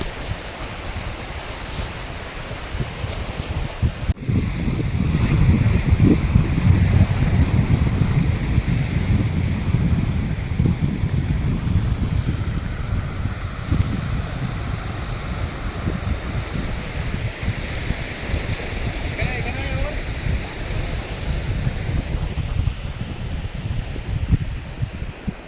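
Sea waves break and wash onto the beach at Mousuni Island in a loud continuous roar, with wind buffeting the microphone throughout and surging swells rising and falling, no voices.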